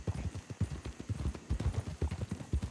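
Horse hooves clip-clop in a Western video game, a brisk rhythmic gallop of hard thudding beats repeating closely and evenly throughout, fairly loud and near, with faint voices now and then.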